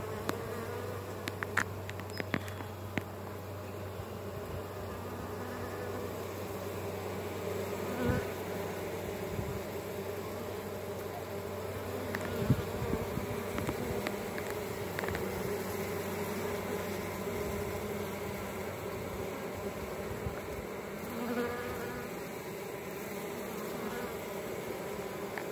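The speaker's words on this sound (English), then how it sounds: "I hear a lot of bees flying around me" A swarm of honey bees flying around close by, a continuous buzzing drone with individual bees passing near and away, steady and fairly faint, no talking.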